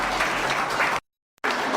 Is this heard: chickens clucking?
no